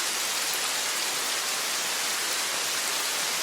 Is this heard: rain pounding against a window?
yes